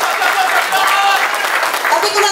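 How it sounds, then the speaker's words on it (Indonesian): Steady audience applause for Milagros at a testimonial gathering, a dense, even wash of clapping filling the whole stretch without pause. "Ini tepuk tangan buat Milagros."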